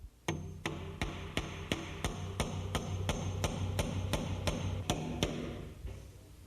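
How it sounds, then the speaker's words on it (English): Finish nails hammered into a door jamb at the shim locations, about a dozen sharp, evenly spaced blows in a steady rhythm, close and ringing. "And then nail it up."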